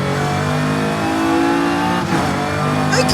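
Car engine with a supercharger whine in Forza Horizon 5, a sustained revving drone with a rising tonal whine, loud and close, the pitch shifting as it accelerates.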